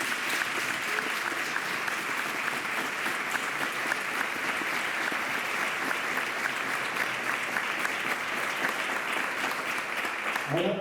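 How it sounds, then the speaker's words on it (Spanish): An audience at a forensic lecture in Ronda claps in long, even, sustained applause that holds at a steady level throughout. "pediría para ello un fuerte aplauso"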